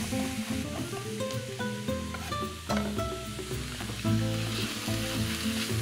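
Beef mince sizzling and frying steadily in a pan, a continuous close crackle with some stirring and background music.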